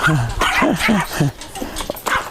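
A dog yips and barks in short, close, excited bursts, mixed with whimpering and a person's voice nearby.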